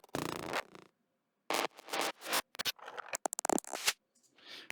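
Glitchy electronic effects from a loud music mix, isolated: choppy bursts of stuttering, buzzy noise cut off abruptly, with rapid clicks and gated fragments in an irregular rhythm.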